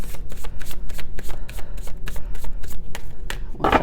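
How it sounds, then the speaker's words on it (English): A deck of tarot cards is shuffled by hand in a steady run of crisp riffling bursts, each flutter of cards clear and close, with no talking. "We'll shuffle one more time and cut"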